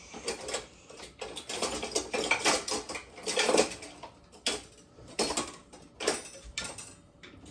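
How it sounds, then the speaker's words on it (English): A wooden spoon stirs sugar in a pot while making cowboy candy, giving a close, irregular scraping and gritty rasping in uneven strokes, with brief knocks and pauses in between. "I'm going to use a wooden spoon. So I'm just going to stir this up so that that sugar is not just sitting in the middle clumping."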